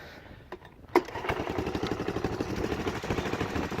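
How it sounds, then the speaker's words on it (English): A 1984 Honda 125M ATC three-wheeler with a gas-leaking overflow catches after a sharp click, then idles in a close, steady rapid putter that stays running on its own. "It's still pouring gas out of the overflow onto the ground, but it seems to be at least idling on its own."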